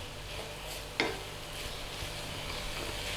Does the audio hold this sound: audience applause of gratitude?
no